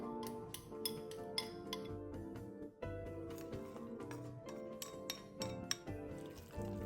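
Shredded carrot and yam bean are tossed together in a bowl, giving quiet repeated clinks and scrapes of utensils against the dish, with a steady tonal hum underneath and no talking.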